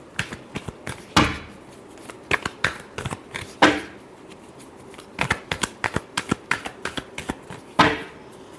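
Tarot cards are shuffled in quick riffling bursts, close and crisp, with irregular clusters of flicks and slaps separated by short pauses.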